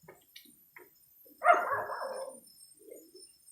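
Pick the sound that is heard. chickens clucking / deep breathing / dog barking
dog barking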